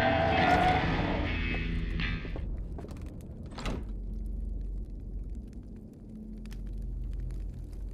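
A door locks in the video game Outer Wilds: Echoes of the Eye, a heavy sliding and clunking sequence after a tonal hum, followed by a low, lingering rumble.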